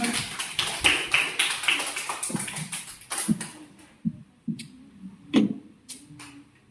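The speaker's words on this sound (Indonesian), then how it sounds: "Tepuk tangan untuk kita semua." A small group in a teacher-training class claps briefly, a quick patter of hand claps that thins out into a few scattered, isolated claps.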